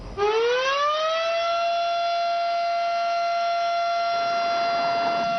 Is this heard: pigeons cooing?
no